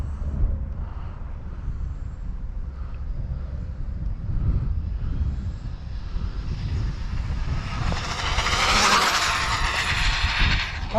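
A Tamiya TT02 radio-controlled car on a speed run buzzes with a rising electric whine that swells loudest toward the end, heard over steady outdoor background noise.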